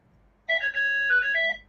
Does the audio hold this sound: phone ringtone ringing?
yes